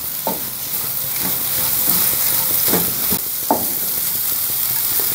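Mixed vegetables for a spring roll filling stir-fry over a high flame, giving a steady sizzle with repeated scraping and tossing knocks from a spatula, close and clear, with no voices.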